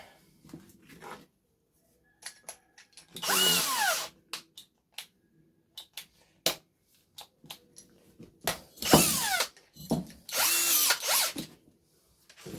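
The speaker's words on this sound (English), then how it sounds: "In order to thread that hole, I'm going to need the hand drill" A hand drill whirs in several short, loud bursts separated by pauses, with small clicks and taps of handling between runs.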